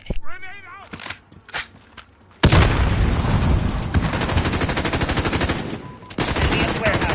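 Call of Duty gameplay with a grenade blast followed by sustained rapid automatic gunfire, loud and dense, with a short pause before the firing resumes and a voice calling out over it.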